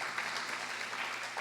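A church congregation at an evening worship service applauds steadily, a soft, even wash of distant clapping that continues throughout at low volume.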